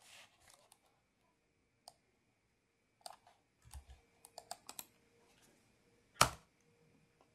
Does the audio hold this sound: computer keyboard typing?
yes